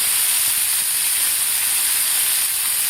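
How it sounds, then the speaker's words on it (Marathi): Chopped tomatoes, salt and green chillies frying in a pan give off a loud, continuous sizzling hiss, close and steady with no pauses. "आता आपल्याला 2 ते 3 मिनिट टोमॅटोसुद्धा मिरचीबरोबर व्यवस्थित भाजून घ्यायचे आहेत"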